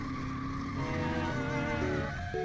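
BMW drift car sliding in tandem with another car, a steady engine drone under continuous tire squeal with shifting pitch for a few seconds.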